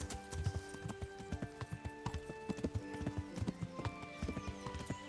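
Horse hooves clip-clopping in the video game Kingdom Come: Deliverance, a quiet irregular run of hoof thuds, with a faint whinny-like tone under them.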